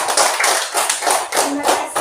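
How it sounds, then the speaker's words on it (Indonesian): Students clapping together in a classroom during a morning session, a quick, brisk patter of hands in short rhythmic bursts, close and fairly loud. "kita berikan tepuk tangan untuk ayah"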